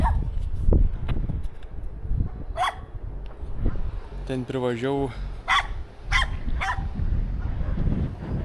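Dogs bark repeatedly at close range, in sharp bursts with a few higher yips, while someone talks over them.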